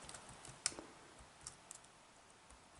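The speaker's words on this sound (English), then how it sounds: "I'm just going to type in display" Light typing on a computer keyboard, a few quiet scattered key clicks with one sharper tap, close and soft in a quiet room.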